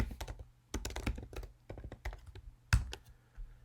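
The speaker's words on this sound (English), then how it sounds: "So if I type a question" Typing on a computer keyboard, entering a short yes-or-no question into an input box: clusters of quick, close key taps in uneven bursts with brief pauses, ending in one heavier keystroke.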